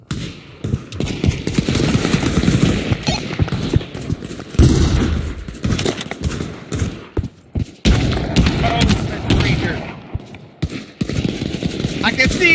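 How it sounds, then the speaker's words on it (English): Rapid bursts of gunfire in the VR shooter game Pavlov crack and rattle throughout, loud and close, with several players talking between and over the shots. "Why did you shoot that man?"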